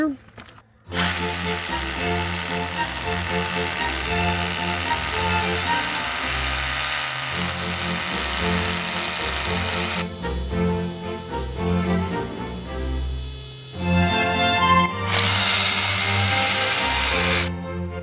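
Bosch GBH 185 LI cordless rotary hammer drilling with a 14 mm bit, a loud continuous hammering whine running almost the whole time with pitch shifts midway, close and steady with no talk.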